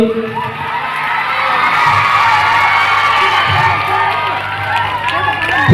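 A village crowd at a Republic Day celebration in Khatsura near Mahuva claps and cheers loudly in a dense, continuous roar of hands and shouting voices, with some children's cries mixed in.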